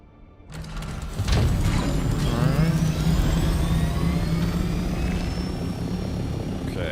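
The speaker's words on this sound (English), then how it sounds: "they said they were going to try to reduce the sound of ornithopters because they acknowledged it's too loud right now" An ornithopter in Dune: Awakening spools up and flies, a loud, continuous whirring rotor and engine roar that swells in after a quiet start and holds steady, with no talk.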